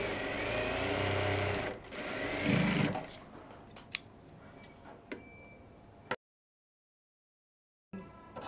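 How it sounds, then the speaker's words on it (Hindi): A sewing machine stitches a flap pocket onto a shirt in a short burst at the start. Scattered clicks and handling taps follow, then a stretch of silence. "इस पर सिलाई लगा लेंगे पॉकेट पे"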